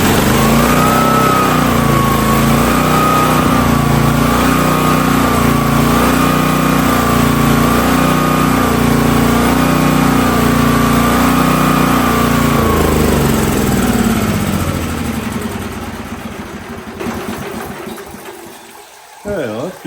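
A Hotsy pressure washer's engine runs loud and steady with a droning hum, then winds down and fades out over the last few seconds.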